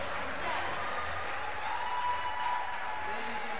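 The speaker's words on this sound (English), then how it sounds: "All three judges say yes, and the crowd goes absolutely wild." A crowd roars and cheers at a European record lift in the men's -97kg class at the 2013 IPC Powerlifting European Open Championships, forming a dense, steady wash of noise with a voice talking over it.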